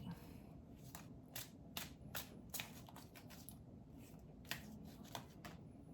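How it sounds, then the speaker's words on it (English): A deck of crystal oracle cards being shuffled during a card reading, a run of quick riffling bursts and crisp flicks over a low steady background hum, with no talking. "I'll just do a shuffle again."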